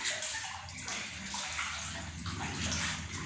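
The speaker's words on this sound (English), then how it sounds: "Make sure you wash your apple before you eat, Lana." An apple is washed in water, with steady splashing and sloshing close by and no voices.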